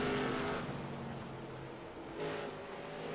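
Race cars lapping an oval during a charity stock car race, a loud continuous engine drone that swells near the start and again around two seconds as cars pass close by.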